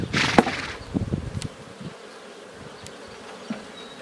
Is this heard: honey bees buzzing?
yes